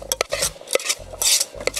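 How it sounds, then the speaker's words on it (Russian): A spoon stirring salted and peppered chopped cucumber in a bowl for tarator, giving a few quick scraping, clinking strokes against the dish, close and fairly loud with no voices. "Возьмем ложечку и сразу перемешаем наш огурец, чтобы он пропитался солью и перчиком."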